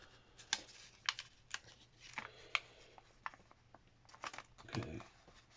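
Paper for a simple origami figure is creased and folded up close, making quiet irregular crinkles, taps and rustles in short bursts with small pauses between them.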